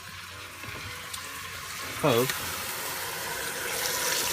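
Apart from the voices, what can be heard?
sauerkraut poured onto pork chops in pan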